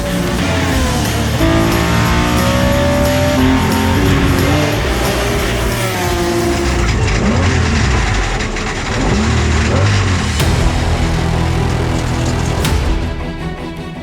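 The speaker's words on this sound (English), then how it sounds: "Our BMW M1 Group 4 is now racing" A BMW M1 Group 4 race car at the Le Mans Classic, its engine a loud, continuous roar that rises and falls as it revs through the gears, with dense mechanical noise throughout.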